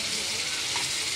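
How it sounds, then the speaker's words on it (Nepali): Asala fish caught in Rolpa sizzles in a frying pan, a close, steady, bright hiss that carries on without a break. "दिनभरि मारेको माछा अहिले फ्राई गर्दैछौँ है"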